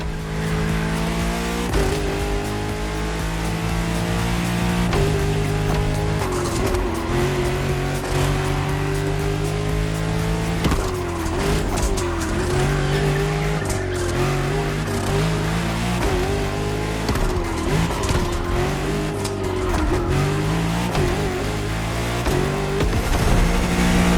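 A French luxury hypercar in the video game The Crew Motorfest drives with its engine loud and close the whole time, revving through rising pitches and shifting gears, with occasional tire noise.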